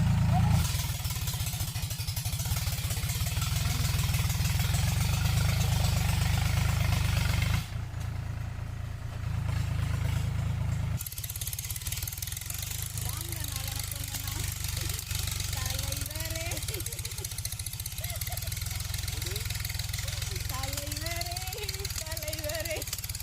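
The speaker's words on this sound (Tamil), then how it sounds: "இங்கே டிராக்டர் ஓடிக்கிட்டு இருக்கு, பேசுறது எதுவும் கேட்காது" A tractor engine runs steadily nearby in a family garden, a loud low continuous rumble under intermittent talk, with a brief dip in the middle before the drone resumes.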